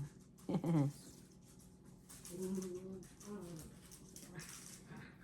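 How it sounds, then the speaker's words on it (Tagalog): Dogs yip, whine and grumble playfully at a distance, with soft scuffling in a quiet room. "Mga aso ko naglalaro sila."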